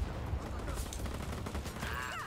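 Dense, rapid booms of cannon fire in Just Cause 4 roll continuously, with a rising electronic whine near the end.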